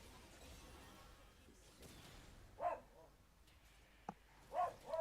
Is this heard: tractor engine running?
no